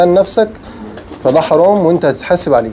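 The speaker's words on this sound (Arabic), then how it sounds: "ده طير جعان نزل عندي عشان جعان وعطشان" A stray pigeon that has landed on a rooftop coos close by in wavering, rolling phrases, while someone talks over and between the calls.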